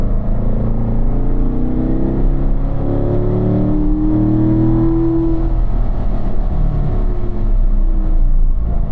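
A Corvette on a racetrack accelerating hard out of a corner, its engine a loud, close, sustained drone that climbs steadily in pitch through the run, with no voices.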